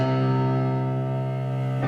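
Piano holding low octave Ds, a single sustained chord ringing loud and steady for about two seconds, with rich overtones and no voice.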